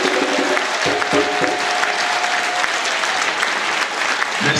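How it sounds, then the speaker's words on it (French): A crowd at a catechists' national pilgrimage in Ndiaffate applauds loudly, a dense steady clatter of many hands clapping, with a brief French voice near the start. "nous lui disons déjà notre grand merci aujourd'hui, en applaudissant très fort"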